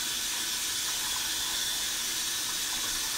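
Cold water running steadily from a kitchen tap to shock blanched tomatoes, a constant even hiss of flowing water with no voices over it.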